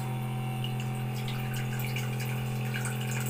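A steady stream of water runs from a tap, a constant close hiss with a low hum beneath it and no talking.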